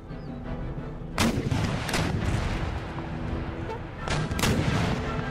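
Cannon and artillery fire in the strategy game Empire: Total War, with two big volleys of booming shots landing about a second and four seconds in over a steady rumbling battle bed.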